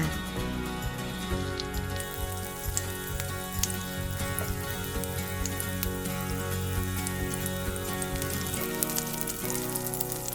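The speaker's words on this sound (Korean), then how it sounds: "약불로 줄여 썰어준 사과를 후라이팬에 올려줍니다." Sliced apples sizzle in a frying pan over low heat with melted butter, sugar and cinnamon, a steady, even crackling hiss that stays constant throughout under soft background music.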